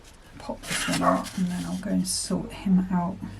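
A dog barks a few times in the background while a person talks close to the microphone.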